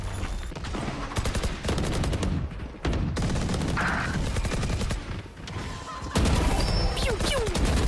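Rapid gunfire bursts from a Valorant match, including an Odin machine gun, crackle almost nonstop with brief gaps, dense and loud, with faint commentary beneath.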